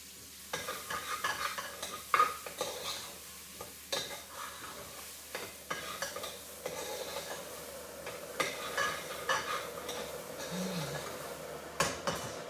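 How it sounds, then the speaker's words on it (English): Vegetables for khichdi being sautéed in a pan, with a steady quiet sizzle under repeated scraping and clinking strokes of a spoon stirring against the metal, close and fairly loud, with no talking. "And I will saute this well."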